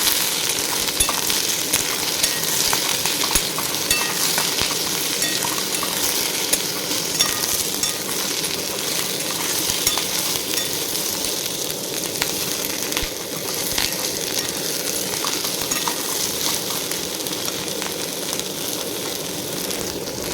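Potatoes, onion and chopped green chili sizzle steadily in a frying pan while being stirred, a dense, even crackle with faint clinks of the utensil throughout and no voices.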